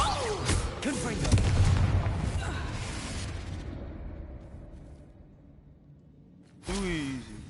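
In the Hogwarts Legacy video game, a Confringo blasting spell erupts in a heavy booming explosion with a long rumbling decay that fades away, followed by a shorter burst; someone speaks over the start.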